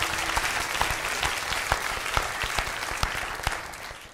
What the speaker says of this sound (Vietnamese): xin mời quý vị cho một tràng pháo tay để chào đón sự trở lại, chia vui cùng với hai bạn thí sinh chung kết